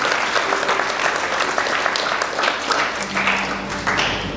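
Church congregation applauding during a sermon, a dense, steady wash of many hands clapping together at moderate volume, with faint voices mixed in.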